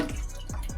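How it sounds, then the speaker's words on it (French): Water from a tap in a Turkish-style squat toilet falls in short dripping splashes, three quick drops in under a second, close and fairly quiet with no talk. "Et donc on allume le robinet."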